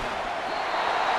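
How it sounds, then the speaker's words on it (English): Stadium crowd at an American football game, Tampa Bay versus New Orleans, swelling into a steady, loud broadband roar that builds slightly toward the end of a short stretch, with no distinct voices above it. "Crowd noise rises."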